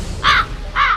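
Two harsh cartoon crow caws, loud and close, each about a fifth of a second long, separated by a short pause, in an animated Shiva episode where a boy turns into a crow.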